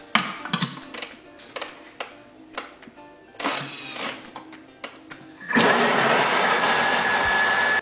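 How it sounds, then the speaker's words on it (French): A Thermomix TM5 blends a pepper sauce, poivronade, at speed 8. Scattered taps and clatter come first, then the motor kicks in with a loud, steady whir that holds to the end. "Et je vais mixer le tout 30 secondes"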